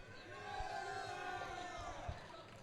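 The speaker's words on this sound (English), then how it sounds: "Come on, cheer, get excited." Crowd at a live esports match event cheering and whooping on cue, a dense sustained roar of voices with a couple of thumps, fairly loud throughout.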